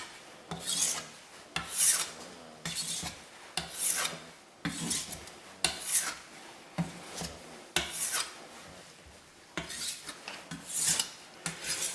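A kitchen knife drawn repeatedly in the same direction along a sharpening steel, about a dozen rhythmic rasping strokes, close and distinct, with brief pauses between them.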